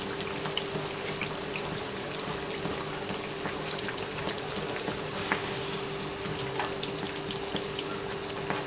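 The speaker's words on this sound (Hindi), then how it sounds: "और ये फ्राई हो गए हैं" Bread pakora frying in hot oil, a steady dense sizzle and crackle with small pops, continuous and fairly close, with no talk over it.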